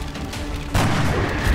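A loud gunshot blast from the turn-based strategy game X-COM: Enemy Unknown, a single sudden burst of gunfire mid-clip that booms and rings on, following a short stretch of low game ambience.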